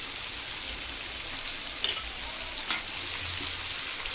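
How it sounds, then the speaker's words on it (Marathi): Pieces of pomfret fish frying in oil on a tawa, a steady soft hiss and crackle with a couple of small spatters or pops, quiet and continuous with no voices. "आता पाच मिनटासाठी ही एक साईड आहे ना ती पूर्णपणे तव्यामध्ये फ्राय करून घेणार आहोत"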